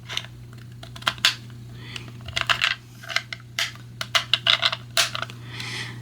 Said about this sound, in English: So as you can hear, there are lots of clicking